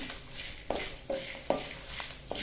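Curry leaves dropped into hot oil for Ugadi Obbattu saaru, giving soft sizzling crackles with a few sharp spits and stirring clicks, quiet and close with no talking.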